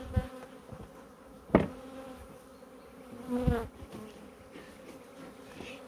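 A hum of bees swarms around an opened beehive being checked before winter, a steady buzz with louder passes as single bees fly close, plus a couple of brief knocks or handling sounds and no talking.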